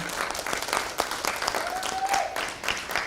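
Audience applause in a hall at a Black Heritage Month celebration as the keynote speaker comes to the podium, steady dense clapping through the whole stretch with a few voices mixed in.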